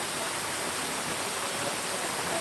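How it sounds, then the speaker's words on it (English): Steady broadband rush of a waterfall close to the microphone, continuous and loud with no breaks and no voices. "that waterfall's getting louder"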